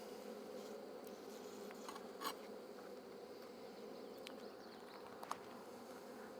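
Honey bees in an opened hive while frames of brood are worked, giving a steady, dense buzzing hum with a few individual bees flying close past. Faint, continuous, and no voices.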